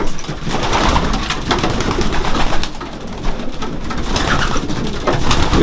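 Pigeons coo continuously and loudly up close in a pigeon breeder's loft, several birds overlapping in a low, rolling murmur with wing flutters and rustling throughout.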